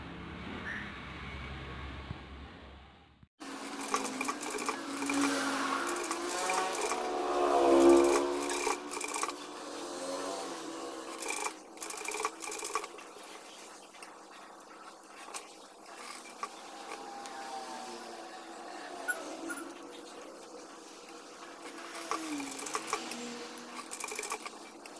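A sewing machine stitches a neck pattern onto a single-colour top, with a long, continuous rubbing whir of fabric being fed. A brief quieter hum at the start gives way to a steady, close run.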